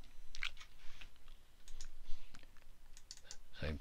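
A computer mouse clicks on forms in database software, giving a few soft, separate clicks spread over a few seconds in an otherwise quiet room.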